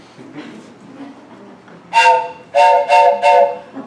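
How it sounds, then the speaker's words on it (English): Train passing in the distance, sounding a series of horn blasts: one long tone followed by three shorter ones, heard over a quiet background at a Culver City fire station. "That was a train going by."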